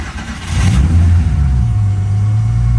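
A Porsche race car engine, a Country Sedan build, catches and revs, a loud, sustained mid-range engine roar that rises after a brief start and holds steady with no talking.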